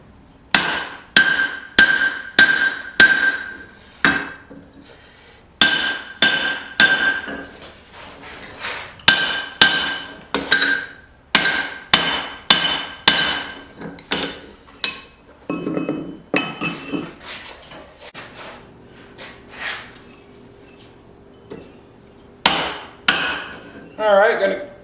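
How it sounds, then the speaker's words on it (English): A hammer drives a drift into hot steel while forging a dog nose hammer: loud, close, ringing metallic strikes in quick rhythmic bursts of several blows each, with short pauses between bursts and no talking. "I got my hammer drift. We're going to start drifting this out."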